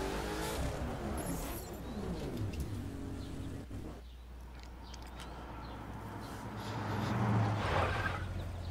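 Koenigsegg Agera R engine in The Crew cruising in free roam, a steady engine drone with shifting revs that dips briefly and then swells louder near the end, with no talking.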